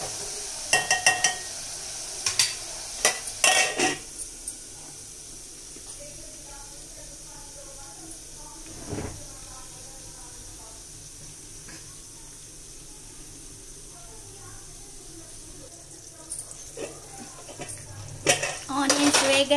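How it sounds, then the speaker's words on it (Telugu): Onions fried in a pan as part of a dried-fish curry, with a steady low sizzle under sharp clinks of a metal spoon stirring and scraping against the pan, several clustered at the start and end, with a voice speaking in between. "మధ్య మధ్యలో ఆనియన్స్ ఎర్రగా అయ్యేంత వరకు కలుపుతూనే ఉండాలి"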